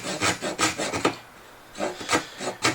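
Hand saw strokes through wood for a router table mobile base, cutting against the grain: several quick rasping back-and-forth strokes, a short pause, then more strokes, close and moderately quiet.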